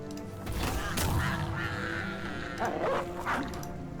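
A dog in a video game gives a few yipping barks amid a busy mix of game sounds and effects, moderately loud.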